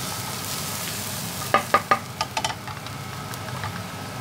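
Garlic and onions frying in a pan, a steady soft sizzle broken midway by a few sharp clacks and taps of a utensil against the pan, with no talking.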